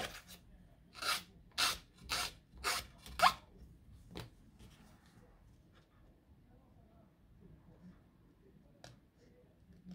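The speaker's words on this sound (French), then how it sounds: "Je vais venir essayer de le limer." A paper card edge being filed, heard as five or six quick rasping strokes in the first three seconds, then a single scrape, followed by near silence with faint background noise.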